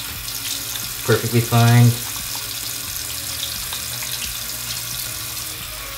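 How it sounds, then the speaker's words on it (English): Tap water runs over a hand being washed with soap, a steady close splash with brief louder bursts partway through, while a person talks briefly. "I'm going to wash this hand with soap, just same soap,"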